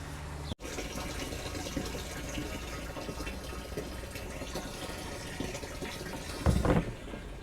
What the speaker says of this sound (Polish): Chcę sprawdzić w tych beczkach, jak długo się będzie woda napełniała.